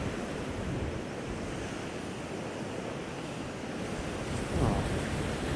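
Ocean waves crash against rocks on the Cornwall coast, a continuous roaring surf with wind noise and a sharper, louder wave impact near the end.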